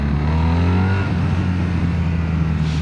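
A BMW R1300R motorcycle's boxer engine pulls hard under acceleration, its deep throbbing note rising in pitch and then settling into a steady roar with heavy wind rush, close and loud, with no talking.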